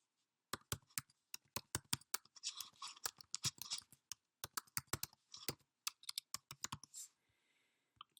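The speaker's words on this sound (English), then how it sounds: "all we have to do is type in the email address we want to create" Fingers tap an email address out on a computer keyboard, a close, quiet run of crisp individual keystrokes in uneven bursts with brief pauses and no talking.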